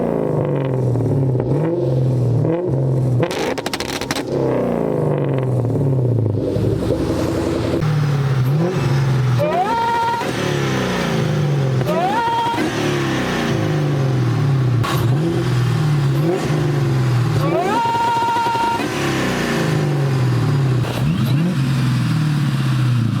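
A Terminator Cobra's engine held on a 2-step launch limiter, a loud continuous stuttering, popping drone with repeated revs that rise and fall, close and unbroken for over twenty seconds with no talk.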